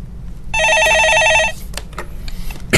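A telephone bell rings once, loud and close, as a rapid trilling burst lasting about a second, followed by faint clicks and handling noise in a studio setting.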